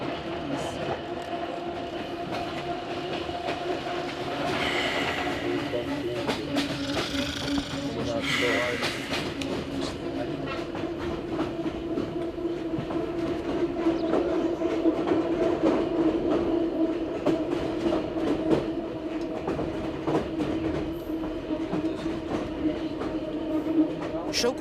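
A passenger train rolls along the rails with a steady rumble, rhythmic clatter and occasional hiss, heard from inside the carriage, with voices murmuring faintly underneath.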